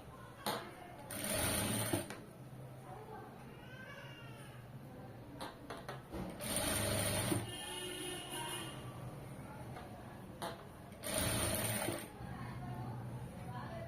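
A sewing machine stitching star neck piping on a garment, running in three loud bursts of steady whirring stitching separated by pauses where someone speaks.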